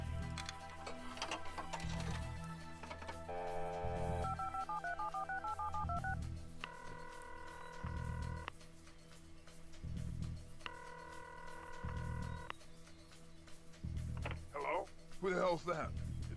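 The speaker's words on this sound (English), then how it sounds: "oh look, it's a little phone booth like the one we saw in the first level" A telephone in a phone booth in the video game Serious Sam: The Second Encounter plays a run of electronic keypad dialing tones and steady beeps, then warbling ring-like bursts, with a voice talking over it.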